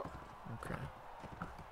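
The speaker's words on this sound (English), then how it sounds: "I want to get this horse, actually." Hooves clip-clop at a steady pace under a brief whinny from a horse in a 12th-century medieval video game mod, moderately loud over a dense game soundscape.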